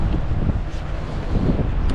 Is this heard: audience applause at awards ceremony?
no